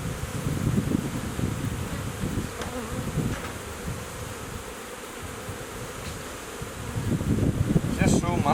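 Honeybees swarm around an open hive during queen rearing, a dense, close buzzing hum that swells and eases with faint rustling.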